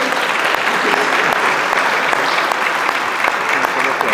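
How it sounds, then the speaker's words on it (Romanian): A room full of people clapping steadily, a dense, even wash of applause that holds throughout. "Începem cu domnul Horațiu Madovan, vă rog să-i aplaudați."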